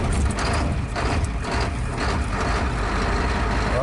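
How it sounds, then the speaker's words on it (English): A cold 1939 Chevrolet engine, left sitting for about a week, turns over and fires in chilly weather, a loud, steady mechanical rumble that runs unbroken and close throughout. "we're going to do a really cold start on it"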